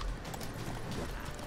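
Horse hooves clip-clop in The Witcher 3 video game, a quick run of hollow clattering steps over a dense, noisy game soundscape, fairly close and steady throughout, with no one talking.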